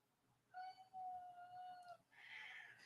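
House cats meowing close by, one long drawn-out meow followed by a shorter, higher cry, the pair sounding like pets begging for food indoors.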